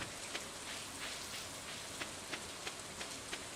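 Acid rain falling in the video game Stardew Valley, a steady dense patter of rain with faint periodic drip ticks, heard alone without talk.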